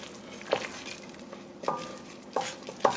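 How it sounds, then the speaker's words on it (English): A spoon scrapes and taps in a pot while curry, black pepper and salt are stirred into lentil soup, four soft clinks spaced across a low steady simmer. "I'm just gonna mix it all in."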